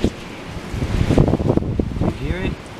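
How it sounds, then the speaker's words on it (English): Strong wind blowing outdoors on a warm day buffets the microphone with a rough, gusty rumble that swells in the middle, and a brief high whine is heard near the end. "This wind is ridiculous."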